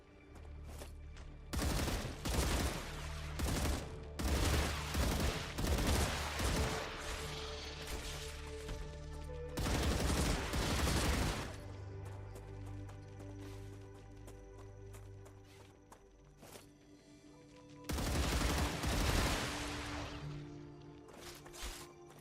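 Bursts of enemy sniper and weapon fire in the game Star Rupture come in several loud clusters separated by quieter stretches of mechanical background hum.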